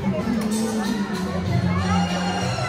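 Crowd of guests mingling around the mutton food counter at a child's first birthday party, a dense, steady hubbub of overlapping voices and chatter with no pauses throughout.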